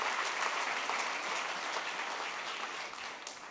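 Steady applause from a church congregation at a Mass, filling the whole stretch at an even, moderate level with no talk over it.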